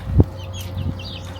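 A big hen on a family hydroponics farm gives a sharp nearby cluck followed by softer low clucks and murmurs from the flock in a quiet setting.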